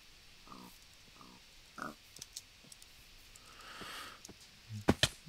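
Pigs in a farming video game give a few short oinks and grunts in separate bursts, then a pair of sharp clicks near the end, all fairly quiet with no talk.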